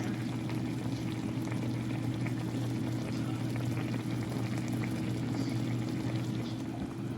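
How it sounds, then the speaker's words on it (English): Chicken stock pours into a pot of simmering greens, making a steady, even liquid rush that runs unbroken throughout at moderate volume. "I just poured in the rest of my chicken stock that I have"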